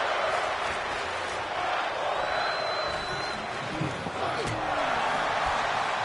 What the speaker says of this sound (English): this capacity crowd showing their appreciation